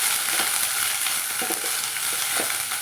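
Dried red chilies, garlic cloves, green chili pieces and chopped onion fry in a pan with an even, hissing sizzle, stirred with occasional soft scrapes and taps.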